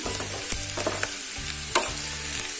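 Bitter gourd frying in oil in a pan sizzles steadily and loudly while rhythmic stirring strokes scrape through it, close by, with no talking.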